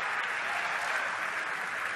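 Audience applause at the 2017 NFL Draft in a large arena, a dense, even wash of clapping from many hands that continues steadily throughout.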